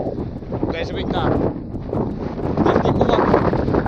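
Strong wind roars across the Rajapää fell summit in Vätsäri wilderness, Finnish Lapland, buffeting the microphone in loud continuous gusts throughout.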